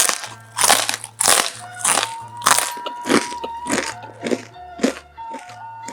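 Loud, crisp crunching of homemade basreng, a fried fish-ball snack, about a dozen sharp bites in a steady rhythm, close to the ear, with no talking.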